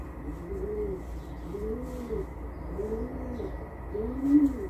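Pigeons coo in a slow, repeated rhythm, four soft throaty calls over a steady low background hum.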